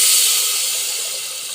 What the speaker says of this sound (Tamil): நாம் ரெடி பண்ணி வச்ச கொள்ளு கடையல் அதை ஊற்றிக்கலாங்க